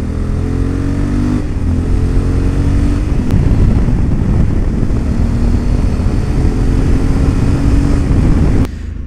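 A 2021 Honda Africa Twin motorcycle rides on a race track, its engine loud and close with rising and falling revs through gear changes, continuous for several seconds before easing off.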